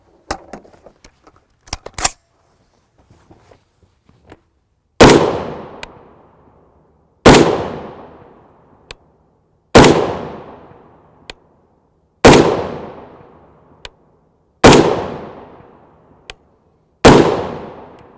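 Six loud, sharp .308 Winchester rifle shots firing 150gr FMJ Wolf ammunition, evenly spaced about two to three seconds apart, each with a long ringing decay, preceded by faint clicks and handling noises.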